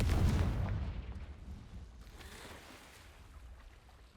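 Confringo fire spell explosion from Hogwarts Legacy: a heavy low boom hits at once and slowly fades into a rushing, rumbling tail with a softer crackle midway.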